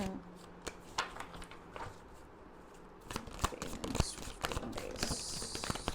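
Tarot cards are shuffled and drawn, giving papery riffles and soft slaps that build into a denser, louder flurry of card noise toward the end. A voice speaks faintly at times.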